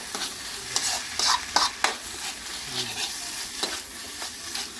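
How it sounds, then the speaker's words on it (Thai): Fried rice with canned fish being stirred in a hot pan for a final toss, with repeated scraping and clinking strokes of the spatula over a steady soft sizzle, close and fairly quiet with no talking. "คลุกเคล้ารอบสุดท้ายแล้ว"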